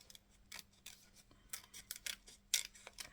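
Scissors snip paper for a glue book in a quick series of faint, crisp cuts, irregularly spaced and close, with a low hum underneath and no talking.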